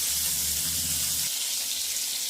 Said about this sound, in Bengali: মাছগুলো আমি এই ভেজে নিচ্ছি।